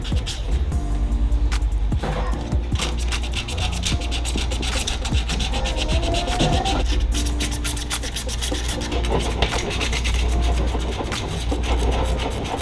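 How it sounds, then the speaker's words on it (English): Coarse 60 grit sandpaper scuffing the recessed emblem area on an Infiniti G35 body panel, a steady dense rasping rub that continues without pause at close range, with no talking. "So what I have right here is some 60 grit. I'm just going to scuff up the inside of the edges right here."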